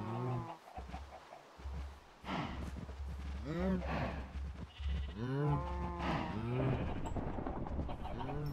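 Cows mooing in the Minecraft game, several drawn-out moos in quick succession, fairly close and clear, with a low steady background hum throughout.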